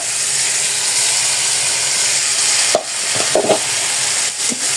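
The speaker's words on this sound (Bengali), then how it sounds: "এখন আমি দিয়ে দিব আলুগুলো।" A steady, loud sizzle of spice paste frying in a pan as potatoes go in, with a few sharp scraping knocks near the end. The hiss is close and continuous, with no talking.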